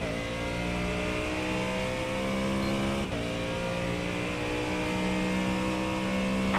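A race car engine at Le Mans in a video game holds a steady high drone, with a brief gear-shift dip midway, loud and continuous.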